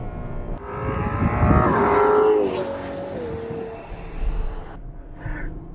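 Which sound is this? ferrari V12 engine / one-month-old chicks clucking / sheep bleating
ferrari V12 engine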